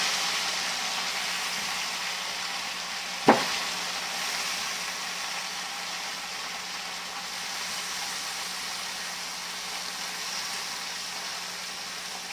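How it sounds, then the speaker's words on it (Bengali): Chopped vegetables frying in a pan, a soft even sizzle running throughout with one sharp utensil knock early on, close and moderately quiet. "এই সবজিগুলো সব ভাজতে বসিয়ে দেবো"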